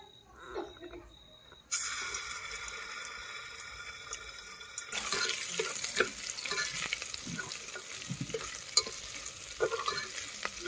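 Ginger garlic paste hits hot oil in a pot on a village wood-fired stove with a sudden loud sizzle that keeps crackling, while stirring strokes scrape through it close up.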